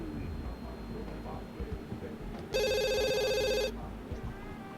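A phone rings once in The Sims 2, a bright electronic trill of about a second lasting over steady background game sound, with faint talk around it.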